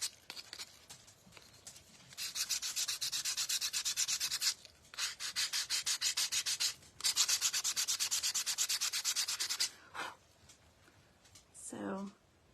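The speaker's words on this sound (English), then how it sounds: "I'm going to go back and just kind of go over on the edges" Hand sandpaper rubbing over the edges of a scrap wood craft piece, with repeated bursts of steady back-and-forth scratching strokes close up, brief pauses between passes and a short voice near the end.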